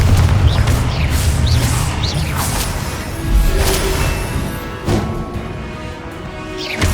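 Spell blasts from Hogwarts Legacy, including a Confringo fire spell among rapid casts, sound as loud booming bursts and crashing impacts with whooshes over a dense game soundscape, repeating several times.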